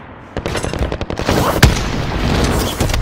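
Rapid automatic gunfire from the Warzone video game, a dense close burst of shots with a sharp louder crack midway, continuing steadily to the end.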